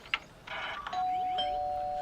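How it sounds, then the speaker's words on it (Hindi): A doorbell chimes indoors with a brief ding followed by a longer, sustained tone that lingers and rings out, fairly faint and with no one speaking. "जब डोरबेल बजी।"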